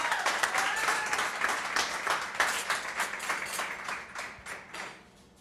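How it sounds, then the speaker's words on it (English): A crowd at a Renaissance Downtown Phoenix cooking competition applauds with dense clapping that gradually thins and fades toward the end. "round of applause for Mr. Alan Verdugo"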